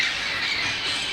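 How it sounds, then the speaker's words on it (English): Outdoor morning parrots in Pasadena give a sustained, harsh, shrill squawk that is loud and continuous for just over a second. "no construction, but I got parrots."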